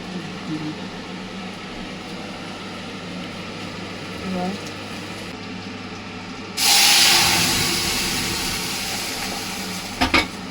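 Cumin, chilli and asafoetida drop into hot oil, setting off a sudden loud sizzle that gradually fades, preceded by quiet kitchen background and followed by a couple of sharp utensil knocks near the end.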